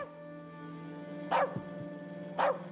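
A dog in the As Dusk Falls video game barks twice, spaced about a second apart, each bark clear and close over a constant tonal hum.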